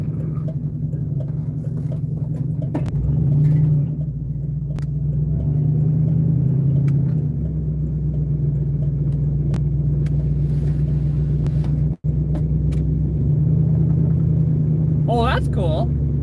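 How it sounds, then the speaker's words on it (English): A 302 notchback car with a manual stick shift idles steadily, its low engine rumble continuous and close throughout, swelling slightly at moments, with speech heard over it. "Gotta love a notchback stick 302 car."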